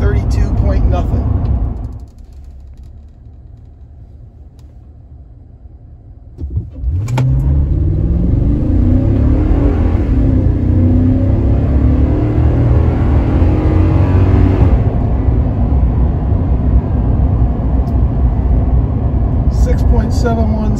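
A 2022 Toyota Tundra Crew Max four-wheel drive accelerates hard from a standstill, its loud engine note climbing steadily through a long run after a brief quiet idle, with a voice speaking over the start.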